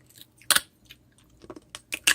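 Close-up crunching of hard homemade dalgona candy, a few sharp bites and cracks with a louder snap near the start and a quick cluster near the end, separated by quiet pauses.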